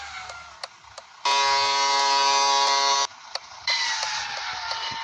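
Vehicle horn in a driving video game: a loud, steady electronic honk that holds for about two seconds, then a second, slightly quieter sustained blare after a short gap, with no talking.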